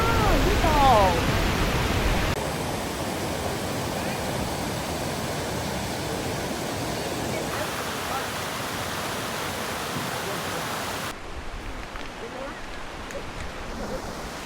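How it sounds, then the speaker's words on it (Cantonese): Water pours over rocks at Pearl Shoal in Jiuzhaigou, a steady, loud, close rushing hiss that shifts in tone a couple of times but never lets up. "佢嗰啲水打落去啲石頭度，好似一粒一粒嘅珍珠"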